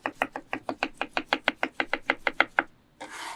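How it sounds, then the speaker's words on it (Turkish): A knife dices potatoes into small cubes on a cutting board, chopping steadily with about sixteen quick, evenly spaced strikes close by, followed by a short burst of noise. "Patatesleri küçük küpler halinde doğrayın."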